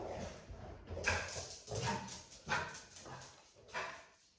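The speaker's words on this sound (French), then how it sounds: "les chiens, j'espère qu'il va arrêter" A dog barks several times in irregular bursts somewhere off in the distance, faint and muffled against a quiet indoor background.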